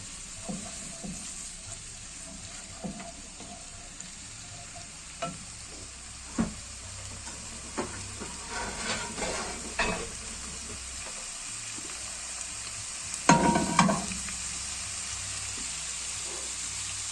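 Onions frying in a pan give a steady low sizzle, with scattered clinks and scrapes of an IKEA spoon stirring and a louder clatter near the end; no one speaks.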